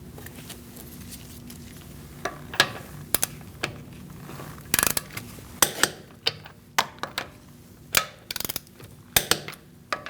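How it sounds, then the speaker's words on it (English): A torque wrench tightens the wheel lug nuts on a 2008-2014 Mercedes-Benz C300, giving a series of sharp ratcheting clicks and metallic taps in irregular bursts, close up with faint background hum. "We're going to torque our wheel to 96 foot-pounds."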